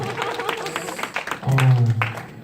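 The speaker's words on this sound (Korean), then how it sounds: "박수." Youth in a church congregation clap briefly at a Korean middle school service, with scattered sparse claps mixed with murmuring and a voice, and a louder spoken or sung tone breaking in partway through.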